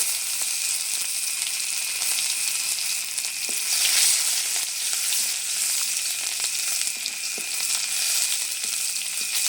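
Onion frying in hot oil with whole cumin seeds and a pinch of sugar, producing a loud, even, hissing sizzle that barely changes from start to finish.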